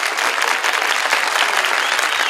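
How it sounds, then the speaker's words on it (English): Loud, intense round of applause, dense continuous clapping close up throughout, with no talk over it. "I give them both a massive round of applause"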